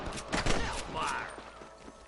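Rapid volley of gunfire in a Red Dead Redemption shootout, several sharp close shots in the first second followed by a ringing tail, with voices calling out over the action.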